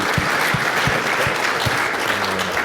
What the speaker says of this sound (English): Can we give one more round of applause to all the presenters today?